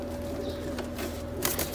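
Pigeons being shown for sale coo steadily in a low, throaty drone that runs throughout, with a brief flutter of wings near the end.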